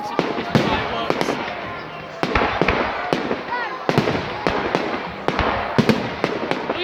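Fireworks display in the video game GTA 5, a rapid irregular series of loud sharp bangs and crackles with whistling streaks between them, continuing throughout.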